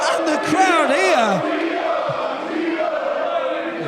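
At an independent wrestling event, a crowd roars and whoops after a big slam, with loud shouting voices rising and falling close by and a broad wash of cheering continuing underneath.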